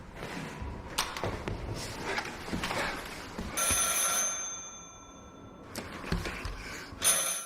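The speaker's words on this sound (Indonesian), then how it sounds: "Tapi tiba-tiba, ia mendapatkan telepon misterius dari seseorang." A telephone rings in a mysterious Arctic film recap, several bright electronic ring bursts standing out over a busy background score, fairly loud and close, without talk.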